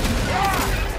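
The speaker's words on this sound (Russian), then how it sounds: "Все копья взорвутся одновременно" A dense burst of booming explosions in God of War Ragnarök as several spears detonate at once, loud and continuous for about a second.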